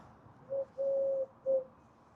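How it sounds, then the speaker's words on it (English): Pigeons or doves cooing outdoors, three soft coos in a short slow sequence with the middle one drawn out longest, fairly faint and distant against quiet background noise. "Being serenaded by some pigeons, doves, cooey birds, birds that go coo coo."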